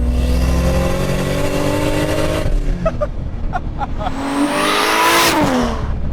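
A Lexus IS300 fitted with a single-turbo 2JZ engine pulls hard at full throttle on a city street. The loud engine note climbs steadily through the revs, eases briefly, then surges again and stays close and dominant.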